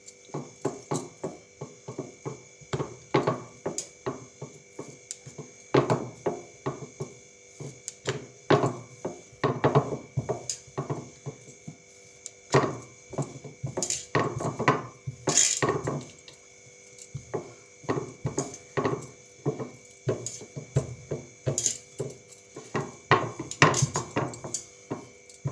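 Aloo paratha dough rolled out on an oiled wooden board with a rolling pin, a quiet, close run of irregular knocking and rolling thumps that repeats for the full stretch, with no talking.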